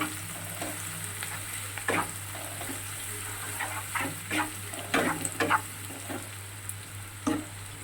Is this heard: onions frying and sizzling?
yes